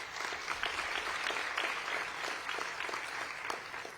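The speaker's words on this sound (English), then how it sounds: "A round of applause for our Breck team" Sustained, dense applause from an education event audience honoring a team, a steady wash of many hands clapping at moderate distance throughout, with no speech over it.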